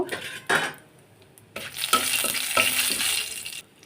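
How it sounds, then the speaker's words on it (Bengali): Bay leaf, cumin and dried red chillies frying in hot oil for chana dal with taro, bursts of sizzling with spoon scrapes and clinks against the pan, close up. "এগুলোকে ভালো করে আমি এখন ভেজে নেব।"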